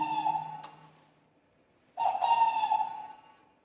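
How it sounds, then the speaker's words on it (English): Two clear hoots from an owl at Alcatraz, each a steady tonal call lasting about a second, separated by a short silence, fairly close and alone with no voices. "That's an owl."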